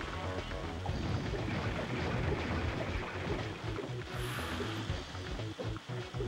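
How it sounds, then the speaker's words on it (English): Steady rain in the video game Rampage 2: Universal Tour, a dense, continuous hiss of falling water with a low rumbling bed throughout, loud and even, mixed with game sounds. "Like how it's raining too."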